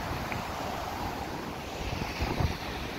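A dense, continuous roar of typhoon surf and wind, with heavy storm waves churning and surging close by.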